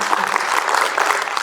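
Audience applause at a motivational FMGE exam-prep seminar, a brief dense burst of many hands clapping steadily throughout, fairly close and loud.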